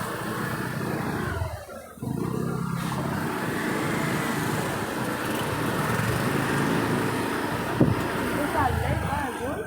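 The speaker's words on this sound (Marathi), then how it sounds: "नाही जातं इथे खूप ट्रॅफिक झालेलं" Road traffic passes steadily, a continuous rumble of engines from a moving bike with wind buffeting the microphone and a brief dip near the start.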